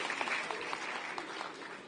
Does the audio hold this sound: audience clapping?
yes